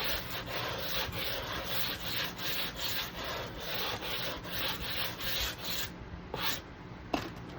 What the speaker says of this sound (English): I'm going to give this a sanding real quick, just a light little sanding.